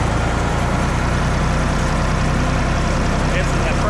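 An International 464 tractor engine idles, a steady, close, loud diesel rumble with a low, even pulsing that continues without change.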